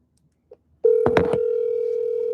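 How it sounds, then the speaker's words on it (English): A telephone ringback tone sounds during an outgoing call, a steady continuous tone that starts after a short click and some rustling and holds loud and clear to the end. "Come on, pick up the phone."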